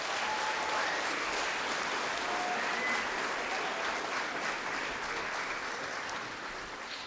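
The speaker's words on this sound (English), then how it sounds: "So please give them one more round of applause." Audience applause at a school band concert: a sustained, loud wave of many hands clapping throughout, tapering off slightly toward the end.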